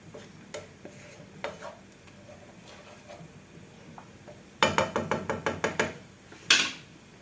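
Garlic fries in oil in a pan for a homemade Moroccan fish tagine. A low sizzle runs steadily underneath, then a quick series of close, rhythmic spoon scrapes and taps against the pan ends with one louder clatter.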